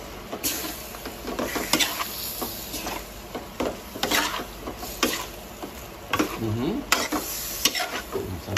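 Chicken afritada with tomato paste is stirred in a sizzling pan: a spoon scrapes in irregular strokes over a constant frying hiss, close and fairly loud.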